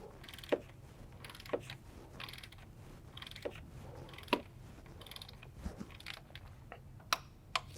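Torque wrench tightening a bolt on a VW/Audi Gen 3 MQB manual transmission, a series of sharp ratchet clicks spaced irregularly over a quiet mechanical background, close and moderately loud.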